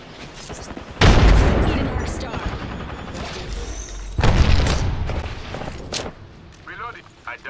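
Heavy bursts of gunfire and booming impacts in the video game Apex Legends, two loud volleys a few seconds apart with scattered shots between, while a player talks over the action.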